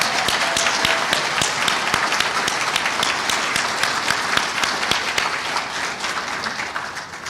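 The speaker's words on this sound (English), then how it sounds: "Would you please all stand so we can applaud for" A standing audience at a history awards ceremony claps steadily, a dense, even wash of many hands that holds at a fairly strong level before easing slightly at the close.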